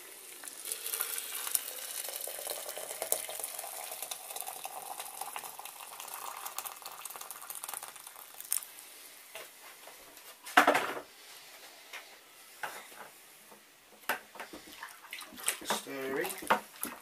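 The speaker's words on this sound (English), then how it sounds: "Rinse it out with some water from the kettle." Water from a kettle pours and splashes into a container for several seconds, with a sharper splash midway and some clinking and rustling toward the end.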